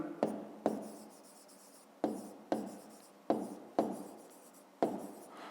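Hand writing with a pen on paper during a fifth-grade maths exercise produces about eight close, distinct strokes, each starting with a sharp tap and trailing off in a soft scratch.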